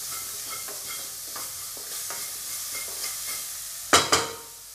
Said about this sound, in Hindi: इसमें डाल देंगे प्याज अब, अच्छे से भून लेंगे।